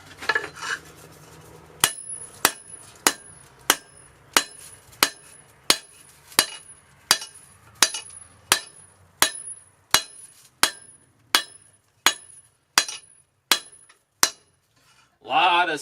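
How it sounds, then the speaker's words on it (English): Heated steel from the forge being hammered into a pickaxe knife: about twenty loud, ringing hammer strikes at a steady, measured rhythm, each blow decaying with a metallic ring, close and without talk. "heat her up, and start hammering her out."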